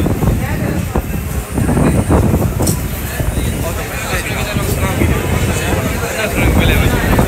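Strong wind buffets the microphone in a constant low roar at an outdoor Eid fair, with brief gusts rising and falling throughout.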